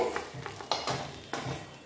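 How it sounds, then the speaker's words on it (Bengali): Fried eggplant being stirred and lifted from oil in a kadai: quiet sizzling under several distinct scraping strokes of a spatula against the pan, uneven in rhythm, with no voices. "বেগুনটা আমার ভাজা হয়ে গেছে"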